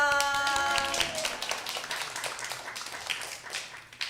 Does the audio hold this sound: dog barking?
no